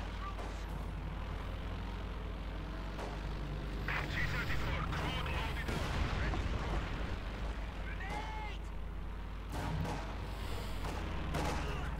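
Artillery and gunfire in the Company of Heroes 2 strategy game crackle and boom continuously under a busy battle soundscape, while a commentator talks over the action.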